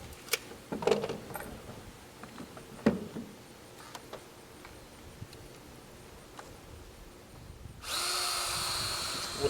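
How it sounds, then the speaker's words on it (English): A power drill with a 1/2-inch bit bores a hole while a wooden wild pig trap door is being built. Sparse knocks and clicks come first, then the drill spins up loudly near the end. "What I'm doing now, got a 1/2-inch drill bit."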